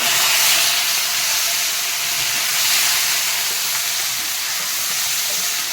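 Garlic and onion paste hits hot oil in a pan with a loud, steady, close hiss and sizzle that continues unbroken throughout, with no talking.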